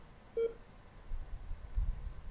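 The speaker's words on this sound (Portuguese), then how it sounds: "eu vou colocar aqui o primeiro, esse bip, que é para indicar que a bola está livre para" A single short electronic beep, a clean tone with harmonics, plays as a sound effect in a Construct 2 Pong game, followed by faint low background noise.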